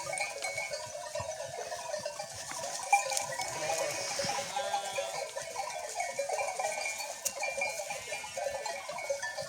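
A flock of sheep and lambs being herded to a highland pasture in rural Anatolia in the morning, with scattered bleats and a tinkling bell over a steady outdoor background, moderately distant.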